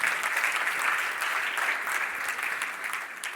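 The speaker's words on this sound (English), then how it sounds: "By the way, applause for the tech crew." Audience applause at a talk on shaping the future with AI, given for the technical crew: a dense, steady wash of many hands clapping for a few seconds, fairly close and gradually thinning toward the end.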